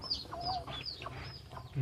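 Rasangi breed chickens at a breeding farm cluck in a series of short, nasal calls close by, overlapping one another with a low steady hum underneath.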